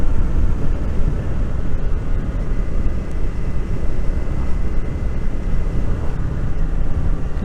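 Heavy, continuous wind buffeting roars over the microphone while riding a Triumph Speed 400 motorcycle on a windy day, with no speech.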